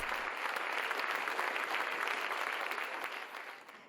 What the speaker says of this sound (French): Le public s'est laissé emporter et a même offert une standing ovation aux deux artistes